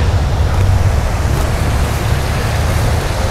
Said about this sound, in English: is a little fountain